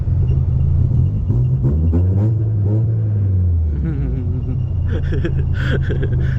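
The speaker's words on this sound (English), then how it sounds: "I heard somebody revving, so I had to join them." A car engine revving nearby, a loud low rumble that rises and falls in pitch through several throttle blips, with traffic and faint other sounds around it.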